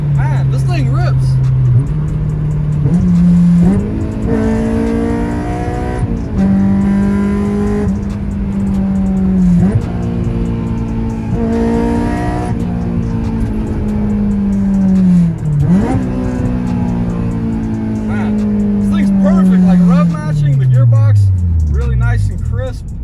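A wrecked, riced-out Scion FR-S from a salvage yard revs and drives off, its engine note climbing through several loud gear pulls before winding down at the end.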